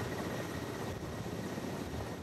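Small aircraft in flight over the Andes mountains, a steady, loud, broadband engine and propeller drone filling the cabin without pause and with no voices.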